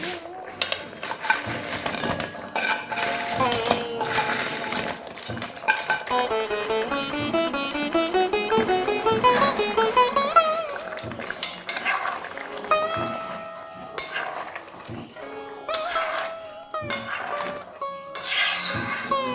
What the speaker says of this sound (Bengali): এবার যে ছানার কোফতাগুলো ভেজে রেখেছিলাম ওইগুলো দিয়ে দেবো।